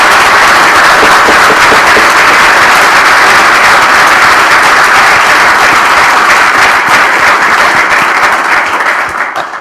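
Loud, sustained applause from a crowd at a city council meeting, dense clapping filling the room before tapering off at the end.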